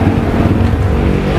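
A motorcycle engine runs loud and close in a steady, rumbling idle that continues without pause, with no speech over it.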